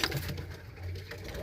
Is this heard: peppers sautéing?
no